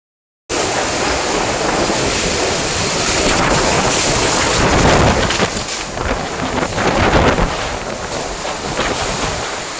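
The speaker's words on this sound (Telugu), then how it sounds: "అనకాపల్లిలో భారీ వర్షాలు" Heavy rain lashes Anakapalli during a storm that is bringing down electricity poles, a loud, continuous roar of rain and wind that swells and eases slightly over ten seconds, with no voices.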